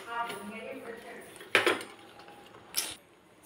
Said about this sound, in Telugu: నేనైతే ఇంకా మిక్స్ చేసేస్తున్నాను ఫ్రెండ్స్ బాగా